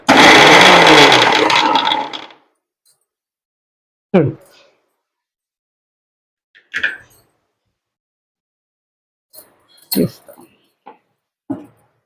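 Mixer grinder whirring loudly for about two seconds as spices are ground into powder, then short pulsed bursts and clatters of the jar follow amid silence, with speaking voices in between.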